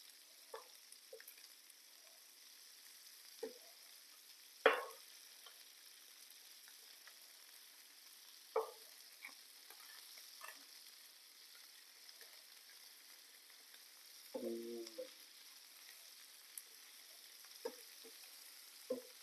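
Tuna fish kebabs roasting in butter in a pan, giving a quiet, steady low sizzle broken by scattered soft pops and stirring scrapes, no voices.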